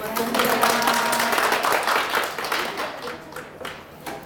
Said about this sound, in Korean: 그래도 박수 소리가 많이 커졌어요.